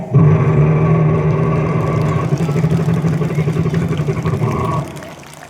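A voice imitates a helicopter during a speech at a school sports day, with a sustained, loud, rumbling engine drone that holds steady for several seconds before cutting off.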